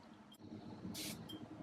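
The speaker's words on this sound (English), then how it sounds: "If I can demonstrate the atomizer." A perfume atomizer gives two quick sprays, the first a short hiss and the second a longer burst, close and soft over a quiet room hum.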